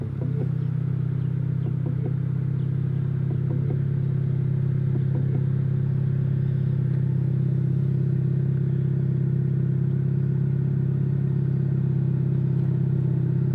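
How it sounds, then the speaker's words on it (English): A 2024 Ford Mustang EcoBoost Premium idles after starting, a steady low engine rumble with a strong hum, brief faint clicks early on, then an even drone up close throughout. "To start it up, as long as you have the key inside the vehicle, you just press and hold the brake, and push this red candy-like button."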